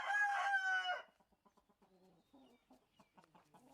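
A fighting rooster lets out a loud, close crow that ends within a second, then a run of soft, quiet clucks follows.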